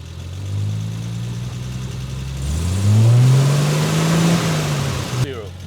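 A car engine revs up from idle as the gas pedal is pressed, rising in pitch to a sustained high whine and then dropping; the car has an intermittent overdrive fault, and the sound is loud and close.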